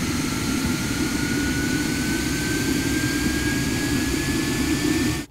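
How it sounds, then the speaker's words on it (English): A continuous turbine whine climbs slowly and steadily in pitch over a dense roar, then cuts off abruptly at the end. "I ended up creating a Shepard out of a turbine that was rising on a steady pace."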